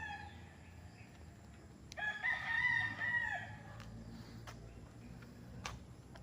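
A gamecock crows once at moderate distance over a steady outdoor background hum on a farm in Nagcarlan, Laguna, Philippines, with a few faint clucks and ticks around it.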